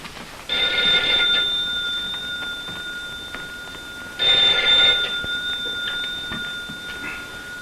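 A telephone rings in two long trilling bursts in a radio drama, clear and close against a low background hiss, with no voices.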